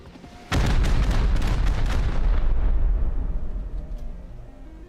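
Rockets fire and explode at a building in a video game, a sudden loud boom followed by rolling, crackling blasts that slowly fade over several seconds.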